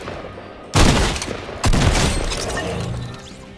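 Shotgun fire in the video game Fortnite: two loud, booming blasts about a second apart, each trailing into a rumbling decay, with no talking.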